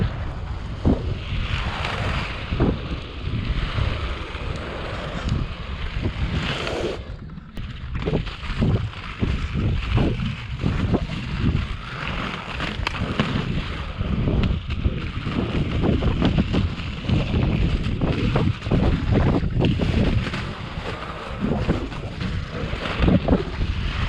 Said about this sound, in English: the weather was nice and warm, but it was deceivingly windy on this day